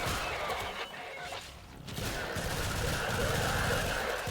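Rapid bursts of automatic gunfire in the Warframe video game, dense and continuous over a roaring mix of game effects.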